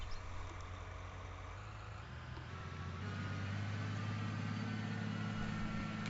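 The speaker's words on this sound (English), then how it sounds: "Tractor's not too loud and drowning me out, is it?" Tractor engine in the Farming Simulator 22 video game hums steadily at low volume, a constant droning idle whose pitch shifts slightly partway through.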